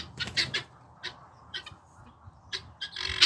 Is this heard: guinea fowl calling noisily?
yes